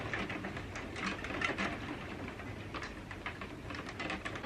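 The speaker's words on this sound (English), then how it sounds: "Can you hear that rain?" Rain patters steadily on a roof window, a soft, constant hiss of drops with scattered brighter taps, heard indoors and fairly quiet throughout.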